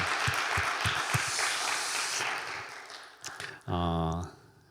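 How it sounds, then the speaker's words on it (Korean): A church congregation claps in thanks during a Friday worship service, a fairly dense wash of clapping with a few sharper claps, fading before a voice speaks briefly near the end. "여호와 이레로 지켜주신 하나님께 영광의 감사의 박수 올려드리겠습니다."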